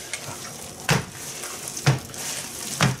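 Meatloaf ingredients squished and mixed by gloved hand, soft wet squelching with three distinct sloppy pushes about a second apart, close and fairly quiet with no talk.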